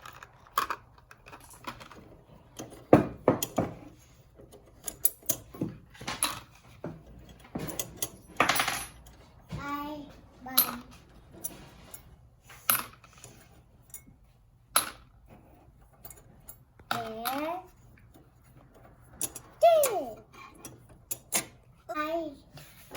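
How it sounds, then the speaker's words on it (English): Screws from a DeWalt DW733 planer are dropped one by one into a bucket, making sharp metallic clinks and rattles at irregular intervals, with a voice speaking in between. "We're gonna take all these screws and put them in this bucket."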